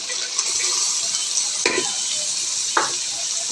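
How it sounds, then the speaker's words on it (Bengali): Chicken pieces frying in a pan, a steady broadband sizzle throughout with a couple of short clinks of a spatula stirring against the pan, close and fairly loud. "এখন আমি চিকেনটা একটু ভেজে নিলাম"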